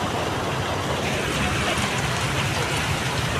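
Steady, dense rain falls in a continuous hiss that holds even and fairly loud from start to finish, with no break and no clear voices.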